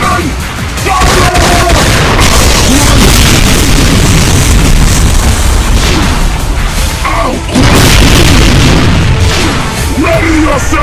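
Loud booming cannon blasts from a Doom mod video game, thick and sustained with layered explosion bursts over roughly eleven seconds, with chaotic game noise throughout.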